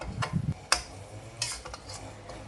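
Curry paste and coconut milk being stirred with a spatula in a pan for a Thai pork curry with yo leaves: a few close, scraping strokes with short gaps and a faint background hiss, no talk.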